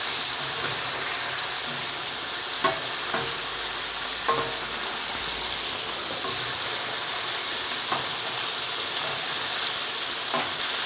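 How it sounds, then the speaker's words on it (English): Boneless pork spare ribs deep-fry in a wok of hot oil, giving a continuous hissing sizzle with a few brief crackles and pops scattered through it. "I would estimate that this would take 4 to 5 minutes to fry"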